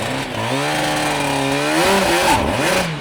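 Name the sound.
Suzuki two-stroke motorcycle engine during a rapid pull away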